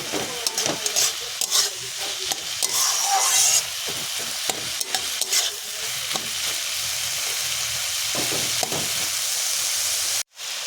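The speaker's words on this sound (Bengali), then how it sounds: "সিদ্ধ না হওয়া পর্যন্ত একটু ভালো করে নাড়াচাড়া করে নিতে হবে" Bottle gourd cooking in a pan is stirred with a utensil, scraping and clattering in irregular strokes over a steady hiss of sizzling, close and moderately loud.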